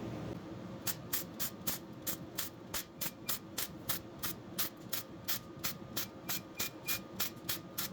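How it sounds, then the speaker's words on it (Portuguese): Gasless MIG welder tack-welding thin sheet metal, a steady run of short regular crackling bursts repeating about twice a second, each burst a sharp hissing spatter over a low background hum, heard alone at close range. "E agora eu vou soldando, ponteando"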